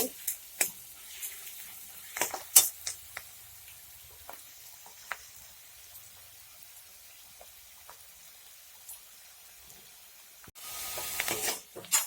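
Onion frying in a pan for a quick sprouted moth bean curry gives off faint, scattered pops and crackles over a quiet sizzle, with a louder burst of sizzling near the end.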